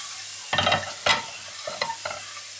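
Onions browning in a pan for lasagne, a low constant sizzle with a few distinct stirring scrapes and clatters, heard up close.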